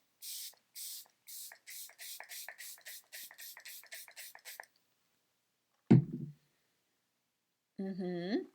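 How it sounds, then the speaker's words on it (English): A rapid series of short spray bursts hisses close by, about a dozen quick pumps of Juvia's Place Ready Set Sealed setting spray onto a face, followed after a pause by a soft thud and a brief voice. "I'm first going to apply a little bit of my Juvia's Place Ready Set Sealed setting spray"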